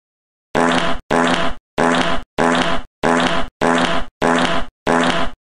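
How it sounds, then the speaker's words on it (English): Cartoon fart sound effect, eight loud, rasping bursts of about half a second each, evenly spaced with brief silences between, harsh and close. "how dare you farted on white mage face?"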